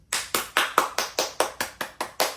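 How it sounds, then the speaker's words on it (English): A round of applause given by what sounds like a single person: about eleven sharp, close, evenly spaced claps in a steady rhythm, with no talking. "let's give Carolyn Beaumark a round of applause"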